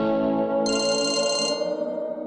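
A phone rings with an incoming call, a loud electronic ringtone with a steady tonal melody and a brighter high chime layered in partway through, close and alone without talk.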